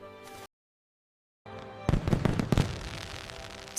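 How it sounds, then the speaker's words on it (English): Fireworks burst in the night sky in a rapid cluster of sharp cracks and crackling pops after a brief silence, loud and close, with no talk over them. "Suddenly, the night sky was filled with the most spectacular fireworks."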